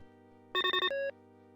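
A video phone in the game Tex Murphy: The Pandora Directive rings with a quick trill of four electronic tones followed by one longer steady beep, all clear over a low ambient hum.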